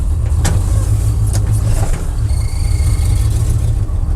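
A barn-find square body truck with a busted Oldsmobile Rocket engine drives along, giving off a loud, steady low rumble. A few sharp clicks and rattles sit on top of the engine drone.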